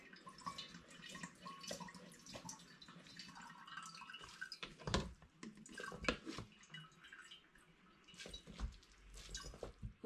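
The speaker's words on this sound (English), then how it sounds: "I'm just using the back of a ladle to push it. I don't want to push the grain through. I'm just trying to squeeze the liquid out." The back of a ladle presses wet brewing grain in a pan for an all-grain Belgian honey ale, giving soft squelches, drips and trickling liquid, close and quiet.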